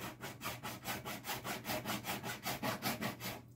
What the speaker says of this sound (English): Got it to 220, and then I went and filed across it